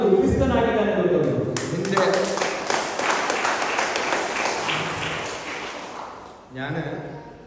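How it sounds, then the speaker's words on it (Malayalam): A Catholic congregation breaks into applause after a preacher's voice, a dense spread of clapping that fades before talking resumes at the end. "ഇവിടുന്ന് കൈയടി കേട്ടു,"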